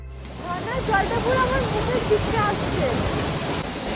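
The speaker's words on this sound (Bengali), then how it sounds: "বাঘের ভয়ঙ্কর গর্জন যেমন দূর থেকে শোনা যায়, তেমন এই ফলসটির গর্জনও দূর থেকে শোনা যায়" Tiger Falls in Chakrata, Uttarakhand, thunders in winter with a dense, constant roar of falling water close by, while a person talks over it.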